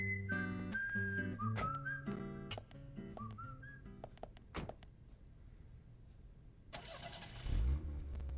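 Car engine cranking and starting in the video game Deadly Premonition, heard after a stretch of whistled game music, with a short loud rumble near the end.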